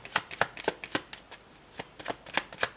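Antique tarot cards being shuffled by hand, a quiet sequence of crisp riffling snaps in an uneven rhythm, close and faint, with no voices.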